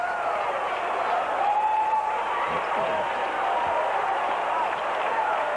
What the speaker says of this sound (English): He drew applause from the crowd.